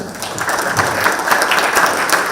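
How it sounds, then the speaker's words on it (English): A round of applause at a breakfast meeting welcoming a new member, steady dense clapping from a roomful of people, close and fairly loud throughout. "Let's give John a round of applause"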